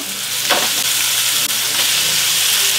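Burger patties sizzle loudly in a hot oiled pan, a steady close frying hiss with brief flares of crackle throughout.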